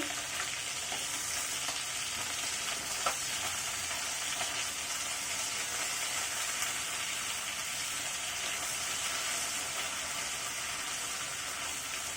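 Bele fish, a small goby, fries in oil in a pan with a steady, even crackling hiss that stays constant and close throughout, with no talk.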